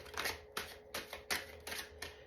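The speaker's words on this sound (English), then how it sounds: "we have two cards that flipped while I was shuffling there" A deck of tarot cards is shuffled in a quick run of about six crisp, close riffling bursts at an even rhythm, with no talking.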